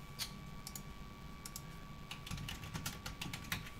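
Typing a command on a computer keyboard while updating a Klipper 3D-printer controller, quiet bursts of close key clicks in an uneven rhythm over a low background hum.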